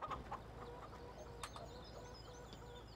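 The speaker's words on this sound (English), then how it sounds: "Let's take a look at our chickens while we're here." Farm chickens clucking in Farming Simulator 17, a few short clucks and bird calls scattered over a steady low engine-like hum, with no talk.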